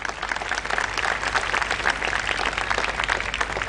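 An audience at a school performance applauds, dense continuous clapping from many hands filling the room at a steady, fairly loud level.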